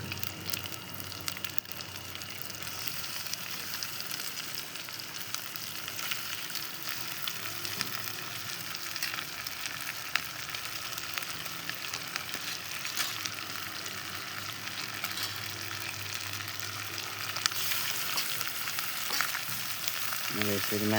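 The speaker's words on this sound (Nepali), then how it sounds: "अब यसलाई हामीले यसरी भुट्छौँ।" Local village chicken meat fries in a pan with a continuous crackling sizzle, close and even, with occasional stirring clicks and no talking.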